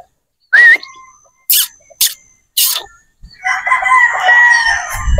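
A pure Boston Roundhead straight-comb broodstag rooster crows once up close, followed by a few sharp bursts and a noisy outdoor clucking jumble at the end.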